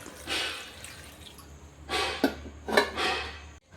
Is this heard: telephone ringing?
no